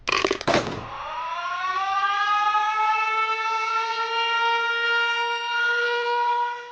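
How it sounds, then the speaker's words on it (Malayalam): A village panchayat civil defense siren winds up after a few sharp clicks and holds a loud, steady wail with faint waver, heard alone and close. "ഗ്രാമപഞ്ചായത്തിന്റെ സൈറൻ ഓപ്പറേറ്ററായിട്ട് ജോലി ചെയ്യുവാണ് ഭാസ്കരേട്ടൻ."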